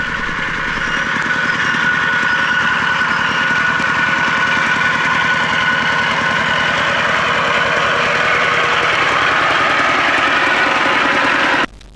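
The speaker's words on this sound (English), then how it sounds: "we found that the walking tractor was a very useful invention" A small single-cylinder walking tractor engine chugs loudly and continuously at a steady pace, a close rhythmic putter that cuts out abruptly at the end.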